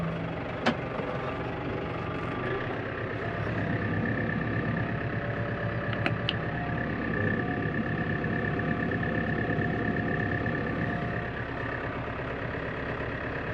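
An 80–90 horsepower tractor runs at low revs while powering a Lely Lotus tedder through its PTO in a grass field, giving a steady, close, even engine drone with a faint mechanical whine and a couple of brief clicks.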